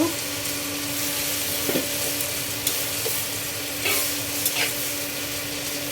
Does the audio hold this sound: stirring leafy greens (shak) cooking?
yes